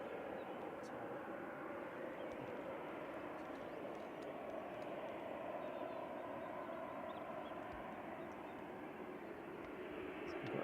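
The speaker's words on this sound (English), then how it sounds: "Air tanker's just about to go over Winsford." A large aircraft near Manchester Airport, an Air Tanker jet passing over Winsford, gives a steady broadband roar that holds evenly throughout with no clear rise or fall.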